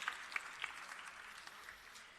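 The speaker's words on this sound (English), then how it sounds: "Chandaka Jayasundara, President's Counsel, on stage with a thunderous applause." Faint, distant applause at a moot court closing ceremony, a soft wash of clapping with a few sharper claps near the start, low in level throughout.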